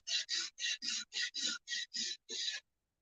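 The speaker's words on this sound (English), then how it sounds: "you can get it all the way sanded flat on there, but it takes a long time" A steel knife blade is hand sanded flat, giving nine steady rasping strokes in an even back-and-forth rhythm, close and fairly loud, then stopping.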